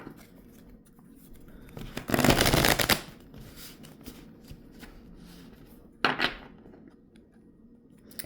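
A tarot deck being shuffled, two brisk riffling bursts, one longer and one short, close and fairly loud against a quiet room.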